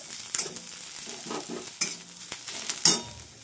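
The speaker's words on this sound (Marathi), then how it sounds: "कांद्यासोबतच हा खोबरेही जाळून घेणार" Grated coconut roasting with browned onion in a hot pan, crackling and sizzling close up with repeated sharp spatula scrapes and clicks, no talking.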